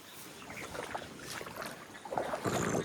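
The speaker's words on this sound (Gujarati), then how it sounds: "બધું પાણી એટલું બધું છે, જોરદાર જાય છે." Heavy rainwater rushes strongly through a flooded rose field, a faint, broad turbulent wash that swells louder toward the end, heard outdoors with no voices.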